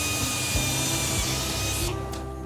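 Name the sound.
drilling visor holes in a racing helmet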